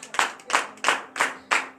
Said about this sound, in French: Donnez de vives acclamations.